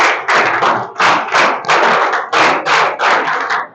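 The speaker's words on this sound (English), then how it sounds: "Have a base clap for her." Audience at a speaking competition claps for a performer, close loud bursts of clapping in a series of roughly seven rhythmic waves with short gaps between them.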